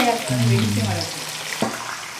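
Curry leaves, fenugreek and onion sizzle in hot oil for a stingray fish curry, a close, constant hiss with a brief stirring clatter, while a voice talks over the start.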